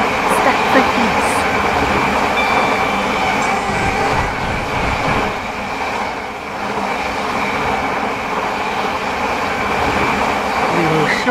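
A passenger train running on a rail line in a Stepford-themed video game, giving a steady continuous rumble and rolling hum throughout, with an announcement-style voice faintly over it.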